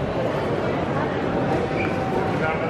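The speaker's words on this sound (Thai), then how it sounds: "ตอนนี้เรามาที่สถานีรถไฟนะคะเพื่อที่จะไปเมืองตู" Ambience at a French train station: a dense, steady rumble and hiss of rail noise with an indistinct crowd murmur.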